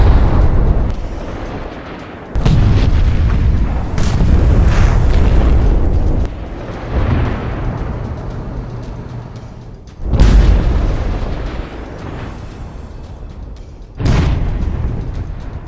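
Explosions from artillery strikes and mines hit a Russian military convoy: several loud, deep booms at intervals, each with a sharp onset and a long rumbling decay, with no talk.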